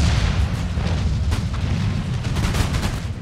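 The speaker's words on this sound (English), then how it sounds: "Doing great with the mortars." Mortar artillery fire in Empire: Total War, a dense run of booming, crackling blasts and low rumbles, loud and continuous over a few seconds.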